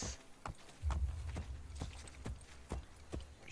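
Hooves clip-clop as a horse walks in Assassin's Creed: Brotherhood, sharp separate knocks at an uneven pace over a quiet background with a brief low rumble, fairly faint and with no talk.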